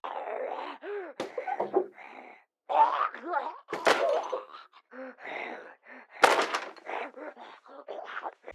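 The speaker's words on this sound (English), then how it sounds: "They've also implemented the first of several sets of new door thumps" Door and window thumps from the zombie survival game Project Zomboid, a run of dull impacts and bangs, some with squeaky tones, mixed among groans and gasps in an irregular sequence.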